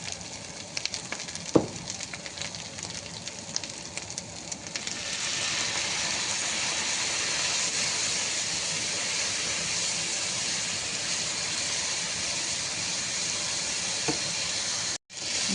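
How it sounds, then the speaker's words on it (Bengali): Ginger garlic paste and ground spices fry in a pan for a tuna fish curry, giving a steady close sizzle and hiss that swells loud after a few quiet seconds and holds, with a sharp clink early on. "মশলাটা ভালোভাবে কষিয়ে নিতে হবে।"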